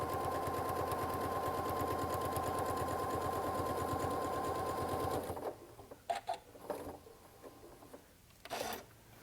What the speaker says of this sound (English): I am going to straight stitch this close to the edge.